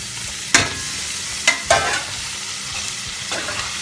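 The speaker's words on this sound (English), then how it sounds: "we're going to mix in all that ackee and saltfish together." Ackee and saltfish sizzle gently in a pan while a utensil scrapes and stirs in three or four distinct sharp strokes, close by and with no speech.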